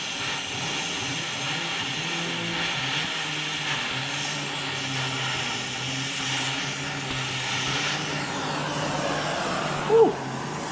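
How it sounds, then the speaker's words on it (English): Cutting torch roaring steadily through metal on a junkyard Pontiac Fiero, a continuous close hissing blast with a faint hum underneath and a brief sharp pop near the end. "Well, torching it now."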